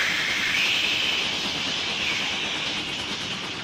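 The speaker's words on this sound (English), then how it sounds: "Gordon was in a cloud of steam and going slower and slower" A stalled steam engine lets off a steady, loud hiss of steam, a broad continuous rush up close that eases slightly toward the end, with no voices over it.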